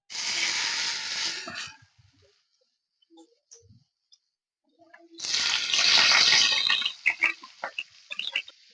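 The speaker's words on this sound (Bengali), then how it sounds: "তাই আমি এইবার একটা একটা করে দেব আর ভাজবো" Stuffed kachki fish fritters are dropped one by one into hot oil, giving bursts of loud, close sizzling and hissing separated by a quiet pause, with crackles as the frying settles.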